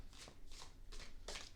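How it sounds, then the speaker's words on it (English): Tarot cards are shuffled hurriedly by hand in four quick, soft riffling bursts, close but faint, with no talking. "I'm trying to rush my shuffling"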